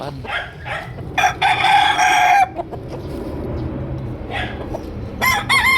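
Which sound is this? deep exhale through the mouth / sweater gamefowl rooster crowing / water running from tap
sweater gamefowl rooster crowing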